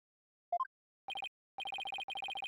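A cell phone rings in the game Ace Attorney Spirit of Justice: a short rising chime, then rapid bursts of electronic trills repeating in clipped groups, clear and alone.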